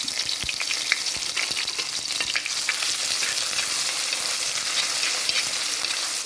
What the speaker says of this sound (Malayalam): ഒരു 3-4 ചെറിയ ഉള്ളിയും ഒരല്പം ഇഞ്ചി വെളുത്തുള്ളി പേസ്റ്റും കൂടെ ഒന്നുകൂടി ഇതിലോട്ടിട്ട് ഒന്ന് വഴറ്റാം